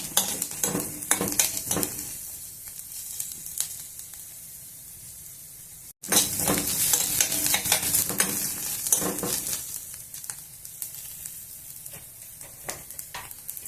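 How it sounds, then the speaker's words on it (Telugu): Carrots and other vegetables fry in a pan for veg egg fried rice, a loud steady sizzle with scraping stir strokes, broken by a brief pause midway before the hiss resumes just as strongly. "ఇంకా కొద్దిసేపు వేగనిద్దాము. మరీ ఎక్కువ మెత్త కావాల్సిన అవసరం లేదు."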